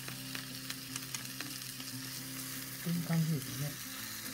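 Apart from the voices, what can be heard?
smoked meat frying in a pan on low heat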